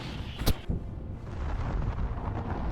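Artillery shells explode on Ukrainian battlefield footage, a sharp blast followed by a second thud, then a rumbling, noisy aftermath.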